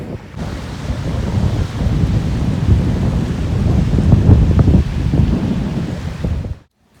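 Waves wash in at the water's edge during a picnic by the water, a loud continuous rushing surge with rumbling swells and wind buffeting the microphone, ending in a sudden cut.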